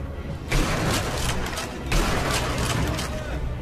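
Gunfire from the video game Sniper Elite V2: two loud, booming shots spaced about a second and a half apart, each followed by a rumbling tail and scattered game noise.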